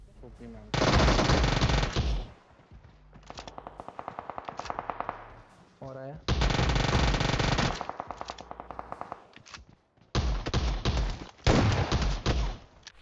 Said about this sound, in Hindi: अब वहां पे धड़ पैड गोलियां चल रही हैं